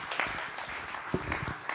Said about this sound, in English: Let's give a round of applause to my sister.